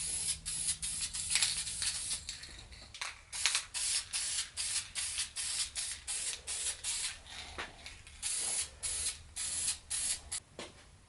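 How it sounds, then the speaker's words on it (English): Spray paint is applied to a 3D printed soldier costume pauldron, a run of short, close aerosol hisses in quick repeated bursts with brief gaps between. "And then we're going to spray the top with"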